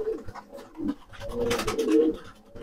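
Pigeons coo close by in a steady stream of low, soft, murmuring calls that swell and overlap.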